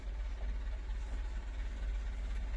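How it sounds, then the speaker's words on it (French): A tractor pulls up at a water point in rural Morocco to refill, its engine a steady low idling rumble that stays loud and continuous throughout, with no voices. "il y a un gars qui arrive avec son tracteur pour se recharger en eau"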